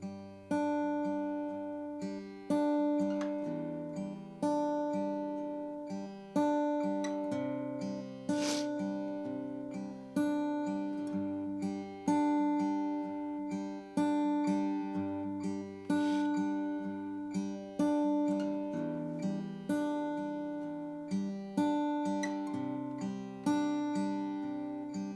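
Acoustic guitar fingerpicked in a repeating thumb-and-finger pattern across chords for a worship song, with clear plucked notes ringing in a steady rhythm and no voice.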